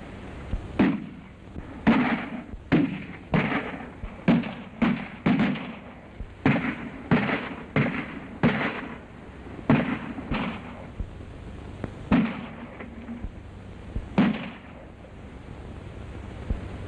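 Gunfire in a 1932 western film shootout: more than a dozen sharp shots crack out in irregular bursts, each with a short echoing tail, over quiet background.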